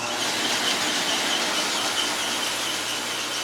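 A stone-cutting saw runs through a rock slab with a steady, high-pitched grinding whine that holds constant and fairly loud, with no talk over it.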